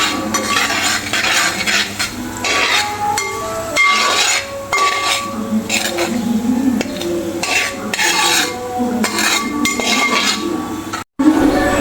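A spoon stirs fish pickle in a pan after turmeric powder has gone in, giving repeated close scraping and clinking of metal against the pot at a steady pace with no talk.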